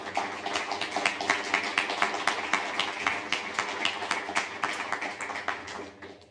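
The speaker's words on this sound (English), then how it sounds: "I propose that we give them a round of applause" Conference audience applauding the panelists at a European energy and research session, steady rapid clapping from a medium-sized room that keeps an even pace for several seconds before tapering off at the end, without talk.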